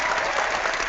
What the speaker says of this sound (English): The clapping just was like awesome.